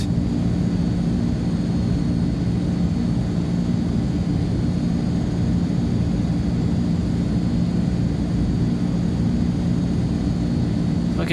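An Azurpoly C-160 military transport aircraft taxiing down runway 24 in Microsoft Flight Simulator 2020, a loud, constant droning engine rumble that holds steady throughout with no breaks, no one speaking.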